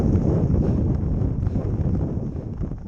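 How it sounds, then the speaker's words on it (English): A headwind buffets the microphone while cycling on a Pennine road, a close, loud, continuous rumbling roar with gusty fluctuations throughout. "This is hard. There's a headwind."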